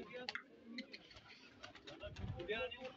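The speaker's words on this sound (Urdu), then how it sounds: "ماشاء اللہ بہت خوبصورت کبوتر ہے" Pigeons in a rooftop loft setup give soft repeated coos and flutters at close range, with a brief burst of nearby rustling and low thumps toward the end.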